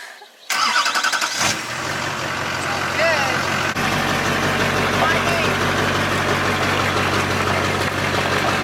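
A Wife Max truck engine cranks and fires, then settles into a steady, loud idle with a low rumbling pulse; a voice talks briefly during the start.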